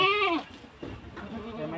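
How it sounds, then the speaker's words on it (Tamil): A young goat bleats loudly and close while it is being caught and tied with a rope during a Mattu Pongal celebration at a home, followed by rustling and scuffling. "ஆட்டுக்குட்டியை பிடிச்சி கட்டிக்கிட்டு இருக்காரு"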